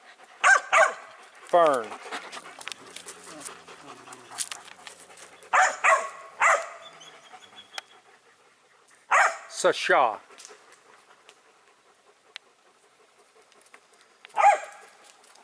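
Several dogs at a home in roughly 110-degree heat bark in short bursts spaced across the stretch, with yips and quieter panting between, while a person calls out names nearby.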